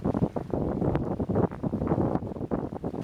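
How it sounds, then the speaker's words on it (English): Gusty wind buffets the microphone in rough, uneven rushes at a lakeside campsite in the Adirondacks, with low rumbling surges and no speech. "Maybe you can hear it's a fairly windy day."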